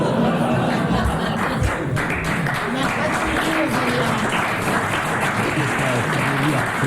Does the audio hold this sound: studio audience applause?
yes